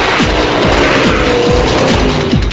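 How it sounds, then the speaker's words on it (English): A 1966 Corvette Sting Ray's 427 cubic inch L72 big block V8 roars loudly and close, revving up repeatedly through quick gear changes in a continuous aggressive run. "the 427 cubic inch L72 Big Block"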